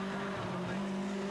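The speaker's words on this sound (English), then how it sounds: "Flinging the cars through the right-hander." Caterham race cars fling through a right-hand corner at Knockhill, Scotland, engines holding a steady, loud droning whine for the whole moment.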